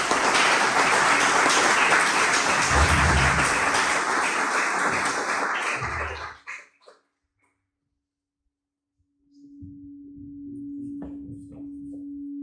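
An audience at a talk on podcasting and journalism gives a loud, sustained round of applause that tapers off into silence, followed by a speaker's voice on microphone.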